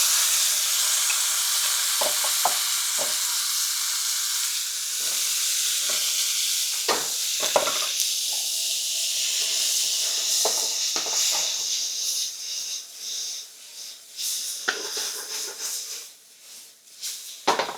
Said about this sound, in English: Stir fry those real briefly. And then I'm going to get my tomatoes right in there.